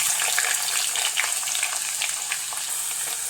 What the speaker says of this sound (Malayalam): അത് നമുക്ക് അരിഞ്ഞ് വെച്ചിരിക്കുന്ന വെളുത്തുള്ളി ഇടാം.